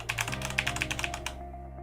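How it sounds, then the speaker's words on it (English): Corsair K95 Platinum mechanical keyboard typed on in quick bursts of close, crisp clicking keystrokes that stop after about a second and a half over a low background hum. "It's a mechanical keyboard, right? So like you guys can hear that."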